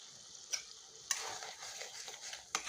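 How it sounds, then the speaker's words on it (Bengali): Mushroom masala with cashew paste sautéed in a pan, a soft frying hiss with three distinct metallic scrapes of the spoon against the pan, close but fairly quiet. "এটাও খুব ভালোভাবে কষিয়ে নেব।"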